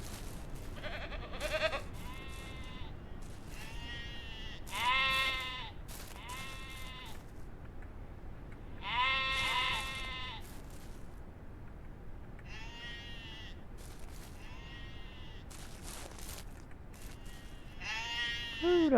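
Sheep bleat repeatedly in the video game Ranch Simulator, loud close calls in short bursts with pauses between them, over faint background noise.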